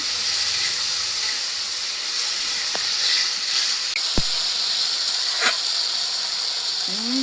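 Vegetables and eggplant sauté with cumin paste and spices in a pan, giving a steady, close, even sizzling hiss throughout. A few faint clicks and a brief scrape break it now and then.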